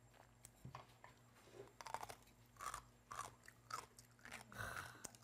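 Crunchy kkakdugi, cubed radish kimchi, bitten and chewed close up in a series of crisp crunching bites over about five seconds, with no talk.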